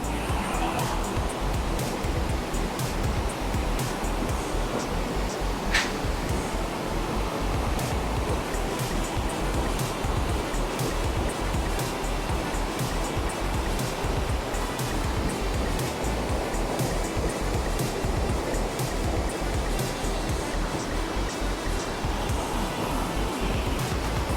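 A steady, roaring rush of heavily falling water, loud and continuous with no letup, from a large waterfall heard close by on the Kanchenjunga north base camp trek.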